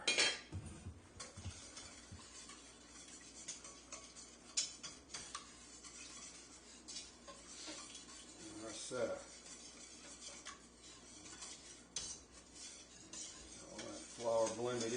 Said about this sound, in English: now I gotta get the whisk